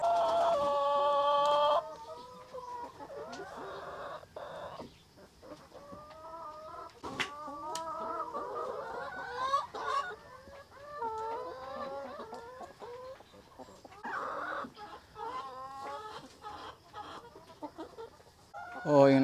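Rhode Island chickens cluck in their coop on fresh bedding, with a loud squawk at the start followed by a steady run of close, overlapping clucks and murmurs.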